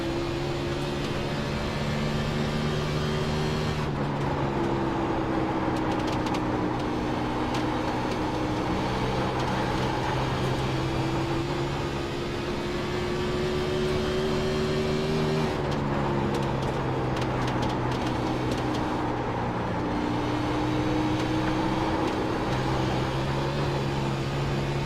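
A race car engine holds a steady, loud drone through a full lap of Dover in the sim racing game iRacing, its pitch rising and dipping smoothly as it goes through the corners, with no voices.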